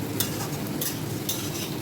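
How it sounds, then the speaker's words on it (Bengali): Vegetables with chopped ginger and chilli frying in a pan for vegetarian fried rice, a steady dense sizzle with periodic scraping strokes of a spatula stirring, close and continuous. "এখানে সবজি ভাজা হচ্ছে।"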